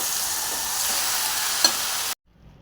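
Chopped amaranth leaves being stirred in a frying pan with tomato: steady sizzling frying with a few scraping stir strokes, then sudden silence near the end.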